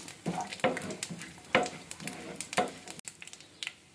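Tempering seeds fry in hot oil in a pan for kara bath upma, with a steady sizzle broken by sharp stirring scrapes that come in regular bursts.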